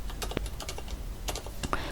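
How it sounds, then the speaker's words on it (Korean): Rapid keystrokes on a computer keyboard while entering text in Photoshop, with irregular close clicks spread across the short stretch and no voices. "타이핑을 쳐줍니다"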